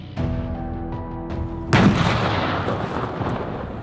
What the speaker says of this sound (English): I've never seen a tank fire from this close